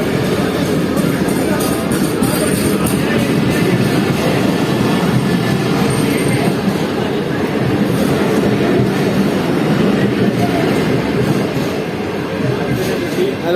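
Green Line Express passenger train passing Ring Road railway station, a loud continuous rumble with rhythmic wheel clatter and occasional squeal close by throughout.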